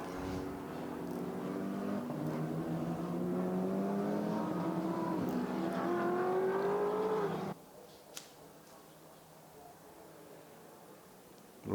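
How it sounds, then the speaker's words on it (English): GT4 race cars at the Nurburgring during a Central European Cup race, engines roaring loud and continuous with rising harmonic revs for several seconds, then dropping abruptly to a distant, quieter hum. "Rob Sievers has got his mirrors full of Audi now. He comes up to the chicane, through the chicane."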